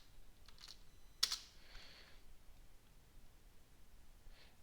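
Python code being typed on a computer keyboard: a few soft clicks early on, then a sharper cluster of keystrokes around the middle, with a faint stray tap near the end over quiet room hiss.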